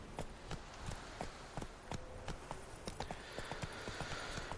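Horse hooves in The Witcher 3 video game while riding, a steady quick clip-clop of hoofbeats over a dense, continuous ambient game background.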